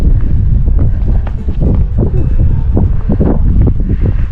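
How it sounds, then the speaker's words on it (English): Strong wind buffets the microphone in Canyonlands National Park, a loud continuous roar and rustle with gusty swells throughout. "The wind really blows through this area."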